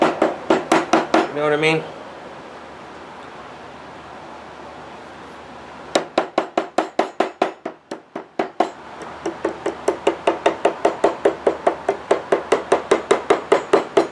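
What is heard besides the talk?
sharp chisel tapped to flatten wood on guitar fretboard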